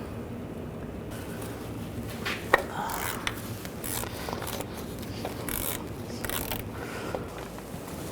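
A ratchet with a T30 socket loosens a bolt near the crankshaft position sensor of a 2009-2017 Volkswagen Tiguan, making close, irregular clicks and scraping rubs that come in short bursts.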